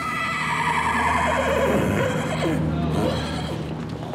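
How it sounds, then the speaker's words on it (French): A horse whinnies loudly at a Texas livestock show and rodeo. The long, wavering neigh rises and falls over constant barn and crowd noise. "Ou des chevaux."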